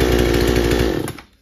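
A Parkside chainsaw with an electric starter runs loud and close with a steady buzzing engine note, then cuts off and winds down to quiet near the end.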